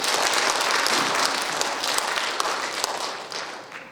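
Dense, steady applause from an audience at the 15th Nogeun-ri Peace Prize award ceremony, honoring the winners; broadband clapping fills the whole stretch, gradually easing toward the end, with no talk over it.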